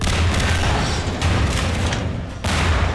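Gunfire in the video game Half-Life 2, heavy repeated booming bursts and rattling shots in a dense, loud barrage with short gaps between volleys.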